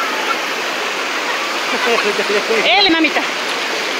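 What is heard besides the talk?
strong ocean waves at the beach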